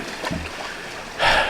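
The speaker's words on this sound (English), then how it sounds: "nice little waterfalls and streams to play in" A small mountain stream splashes and gurgles over rocks on a wooded hiking trail, a close, steady trickle with a louder rush of water swelling at the end.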